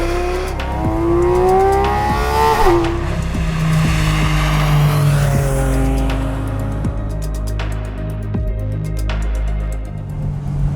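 A Porsche 718 Spyder RS with a 4-litre flat-six revs hard while driving, the loud engine note climbing through the gears with sharp upshifts and surging acceleration, close and continuous, with no talking.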